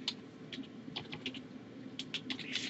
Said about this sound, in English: I'm going to type my password.